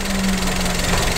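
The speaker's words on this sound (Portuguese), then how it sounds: "o motor está ligado" A Toyota Etios engine idles steadily close by, a continuous low mechanical hum with a faint rhythmic knock, and no one speaks over it.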